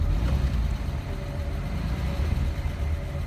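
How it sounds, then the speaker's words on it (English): A 1938 Plymouth engine runs steadily with a loud, continuous low rumble, its pitch holding fairly even as it is revved, with no talking over it. "What happens to the dwell when we rev it up?"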